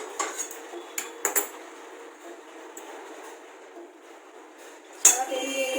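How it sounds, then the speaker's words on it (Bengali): Boiled potatoes are tipped from a dish with utensils clattering, several sharp metallic clinks and knocks in a loose cluster, then a louder scrape and rattle near the end, close in a home kitchen. "এবার আমি আলুটা এখানে ঢেলে নিলাম।"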